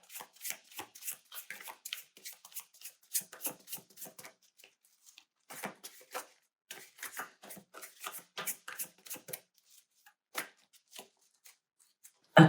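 Tarot cards are handled and shuffled close by in quiet surroundings, producing soft, rapid riffling clicks and slaps in irregular bursts with short pauses between them.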